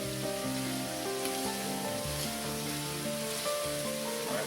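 Red peppers sizzle in a pan for spicy shrimp pasta, a soft crackling fry with light stirring, heard faintly beneath steady background tones, no talking.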